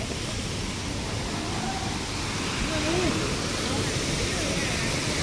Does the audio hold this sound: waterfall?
yes